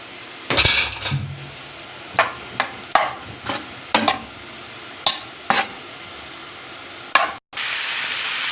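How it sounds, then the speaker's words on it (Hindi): Small chicken pieces fry in oil in a pan for Chinese fried rice, with a soft background sizzle broken by repeated sharp clinks and scrapes of a utensil stirring against the pan. "मैं दूसरी साइड पे चिकन को फ्राई कर रही हूँ"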